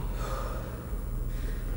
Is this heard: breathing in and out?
yes